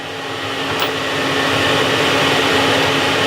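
A milling machine drilling out corners and milling a square in a small metal part, a loud steady whirring drone with constant mechanical hum and no pauses.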